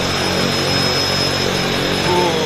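A floatplane's engine running at the Vancouver Harbour floatbase, a loud, steady droning hum holding without a break throughout.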